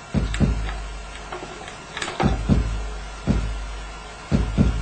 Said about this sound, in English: So there you've got your basic kick drum engine to it.